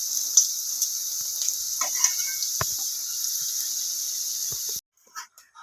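Green peas roasting in the same oil used to fry paneer, in a pan: a steady, bright sizzle holds through most of the moment with scattered light stirring clicks, then cuts off abruptly near the end leaving a few faint knocks.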